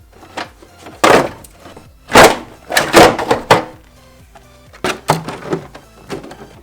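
A Toyota Corolla bumper piece is pried and forced loose, giving a series of loud close plastic cracks, thunks and scraping creaks in uneven bursts with short pauses between.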